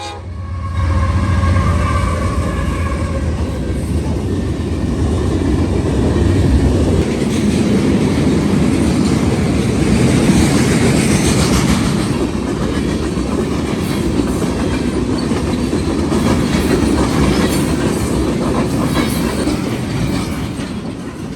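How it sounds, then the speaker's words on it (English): CSX freight train B522, loaded with steel slabs and empty steel coil cars, rumbles past close by on the Toledo Sub with continuous rolling clatter and wheel noise, a faint horn early on. "B522, daily Detroit, Michigan to Middletown, Ohio, steel slab loads and steel coil empties, heads south at a defect detector"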